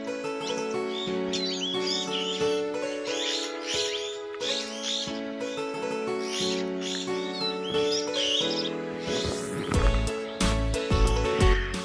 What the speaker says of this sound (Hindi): सामने तोतों की आवाज़ आ रही है